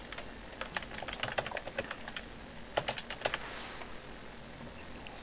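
A username and password are typed on a computer keyboard in quick, soft, close clusters of keystrokes with a pause between bursts, no speech.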